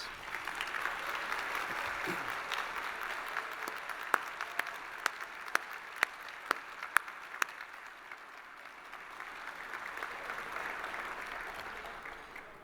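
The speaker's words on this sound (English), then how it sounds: "Let's give them a round of applause." Sustained applause for board members and advisors standing at a Greenway Trust dinner celebration, a broad wash of crowd clapping with several loud, distinct claps from someone close by punctuating the middle stretch.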